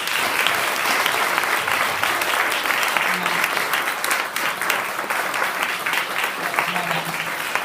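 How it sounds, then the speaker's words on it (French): A hall full of people applauds library staff during a civic speech in Châteaugiron, dense continuous clapping that stays loud and even throughout, with a faint voice or two underneath. "je serais heureuse qu'on les applaudisse tous et toutes"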